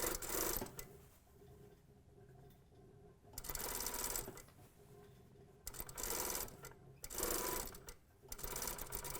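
Sewing machine stitching a circle drape in fabric, running in three or four bursts of rapid mechanical whirring, each a second or two long, separated by quieter pauses; close and fairly loud with no talking.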